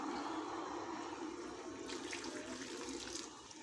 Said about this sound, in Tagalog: Lagyan natin siya ng tubig para lumambot.